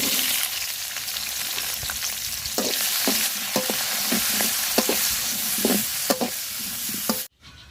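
Onion, cardamom, cinnamon and bay leaf fry in a pan with a bright, continuous sizzle, punctuated by several sharp stirring scrapes up close before the sound cuts off abruptly.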